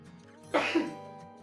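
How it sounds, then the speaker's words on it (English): One short, sharp sneeze from a single person, close and fairly quiet, in an otherwise calm room with a little low background hum. "So hold on, I have to sneeze."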